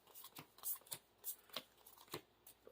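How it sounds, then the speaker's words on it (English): Marvel Champions playing cards are drawn and shuffled by hand, giving a quiet series of quick papery riffles and snaps in an irregular rhythm, heard close up with no talk. "So we start as Stephen Strange and draw our hand size of 6"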